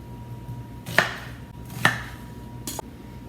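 A knife cutting an onion into wedges on a board, three distinct sharp chops spaced about a second apart against a quiet background, close and alone.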